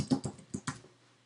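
A computer keyboard clicks quietly as a short file name is typed, four or five light, close keystrokes with no talk, followed by near silence.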